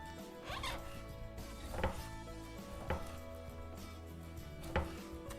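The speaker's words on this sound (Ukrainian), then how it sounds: "і нарізаю вялені помідорчики." Several sharp knife chops on a board at irregular intervals, fairly quiet, over a steady low background hum.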